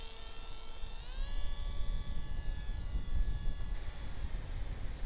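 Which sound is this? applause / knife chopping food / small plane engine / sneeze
small plane engine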